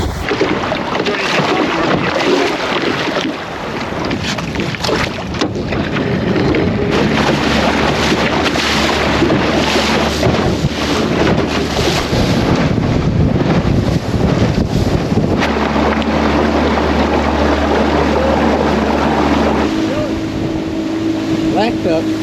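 A boat engine drones steadily on open water in a swamp in winter, with heavy wind buffeting the microphone and a lower motor hum joining partway through.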